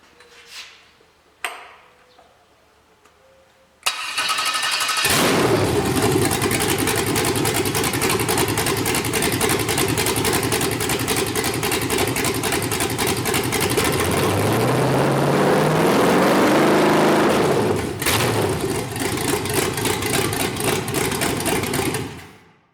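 An LS truck engine running on a MegaSquirt 2 controller cranks and fires up after a few clicks. It settles into a loud, steady, fast idle that lasts about eighteen seconds, then shuts off.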